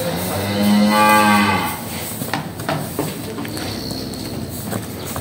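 A cow moos loudly and close in a cattle pen, one long drawn-out low call followed by a muffled shuffle of hooves and pen noise, with no talking.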